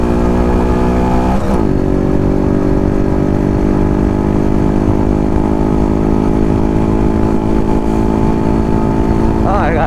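A Harley-Davidson Road King motorcycle's engine drones steady and loud from the rider's position, with a pitch drop at a gear change and then a rise in revs as it accelerates again.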